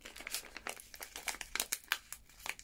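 Tight plastic bags crinkle and rustle up close as scented stickers are pulled out of them, a quick irregular series of crackles with no talking.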